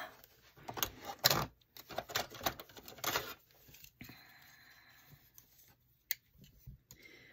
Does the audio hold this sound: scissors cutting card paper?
yes